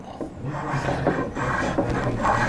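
A freshly sharpened hand plane takes fine shavings from a curved wooden drawer front in a few short rasping strokes, close and moderately loud.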